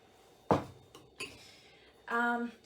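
A spoon clinks sharply against a dish while edible marshmallow paint is mixed, followed by softer scraping and a brief tonal ring near the end.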